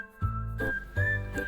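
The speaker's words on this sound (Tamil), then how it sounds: "இப்போ குக்கரை மூடி 3 விசில் விட்டு எடுங்க." Pressure cooker on the stove cooking carrots in water for carrot halwa, letting off a steady, loud whistle with bursts of hissing steam, held alone for over a second.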